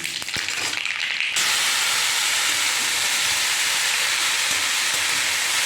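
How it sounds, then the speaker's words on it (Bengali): Dried red chillies and mustard seeds hit hot oil in a wok, setting off a loud sustained hiss and spatter that jumps up after a short quieter start and holds strong to the end. "কড়াই তেল দিয়ে দিয়েছি আর শুকনো লঙ্কা দিয়ে দিলাম আর দিয়ে দেবো সর্ষে ফোড়ন"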